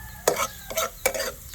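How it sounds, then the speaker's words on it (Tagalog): Garlic frying in a pan with a bright sizzle, punctuated by three or four quick spatula stirs that each send up a louder crackling burst, close and with no talk. "Hintayin ko lang na medyo pumula yung bawang bago ko ilagay yung sibuyas."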